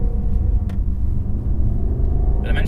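A Dinan-tuned BMW M550i with a ZF 8-speed transmission drones at a steady deep rumble from inside the cabin, loud and continuous with a faint higher note near the end.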